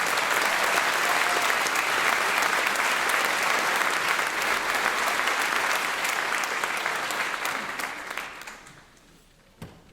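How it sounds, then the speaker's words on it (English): Loud, sustained applause from an audience that fades out near the end, followed by a single late clap. "just a quick applause for my Cincy fellows"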